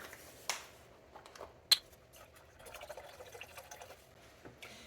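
Two cups of chicken broth pour into a pot of tomato soup in soft, uneven splashes, with a couple of sharper clinks along the way, fairly quiet and close.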